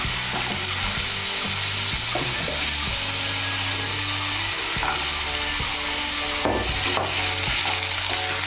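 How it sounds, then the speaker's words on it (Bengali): Three small cut potatoes fry in hot oil with a loud, continuous sizzle, stirred now and then with scraping knocks, plus a couple of brief bright crackles near the end. "আলুটাকে হালকা একটু ভেজে নেব।"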